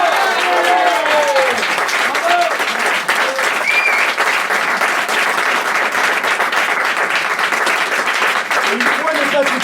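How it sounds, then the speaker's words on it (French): An audience at a live stage show in Aix-en-Provence applauds for Karine, steady dense clapping filling the room for the whole stretch, with a few voices calling and cheering over it. "je vous demande d'applaudir Karine"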